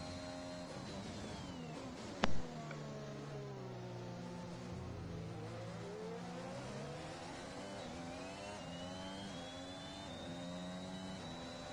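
An F1 2021 race car in the video game launches from the start and accelerates, a steady high engine whine climbing through gears, with a brief sharp click early on and no talk.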